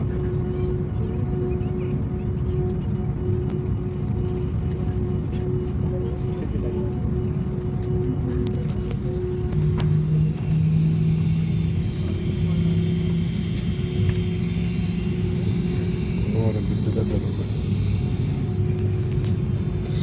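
Steady, loud aircraft engine drone fills the passenger cabin throughout, a constant low roar with a brief voice heard faintly partway through.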